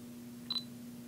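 A Fujifilm S2950 digital camera's shutter button is half-pressed to pre-focus, giving a single short, faint electronic focus-confirm beep over a quiet hum.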